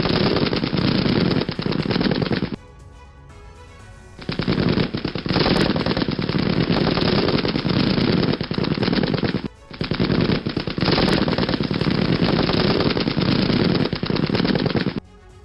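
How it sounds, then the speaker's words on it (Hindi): Rapid sustained gunfire from an artillery attack on Russian army positions in Ukrainian war news footage, loud, dense bursts that run for several seconds, break briefly, resume, pause again and continue, with no speech. "यूक्रेनी सेना का भीषण हमला। रूसी सेना के ठिकानों पर आर्टिलरी से किया हमला।"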